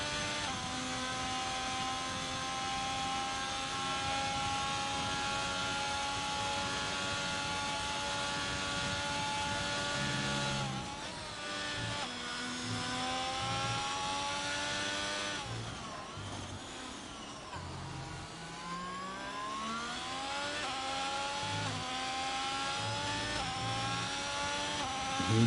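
A race car engine in a sim racing game screams at high revs and climbs repeatedly through gear shifts, with sharp dips and rises in pitch, loud and continuous from start to finish.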